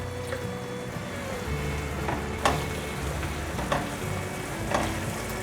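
Mushrooms and cucumber stir-fried in sweet and sour sauce, a close, continuous sizzle with a few sharp scraping clatters of a spatula stirring in the pan, no talking.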